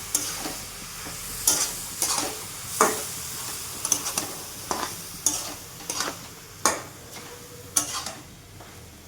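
Soybean chunks with onion and spices are fried and stirred in a pan, regular scraping strokes of a spatula every second or so over a low, steady sizzle, close and fairly quiet.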